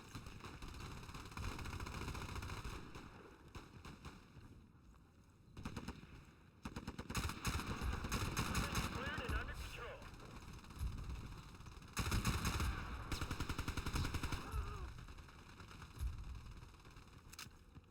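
Famas rifle fire in Battlefield Play4Free on the Basra map, several long automatic bursts of rapid shots with brief pauses between them, loud and close, with no talk.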